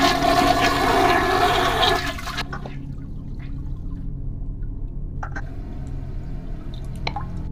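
In the Five Nights with Bud video game, a toilet flushes with a loud rushing burst for about two seconds, then a quieter tank refill follows with scattered drips and small splashes.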